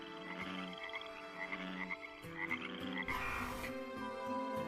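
Frogs croaking in a steady chorus, many overlapping rhythmic calls of varying pitch, moderately close, with no voices.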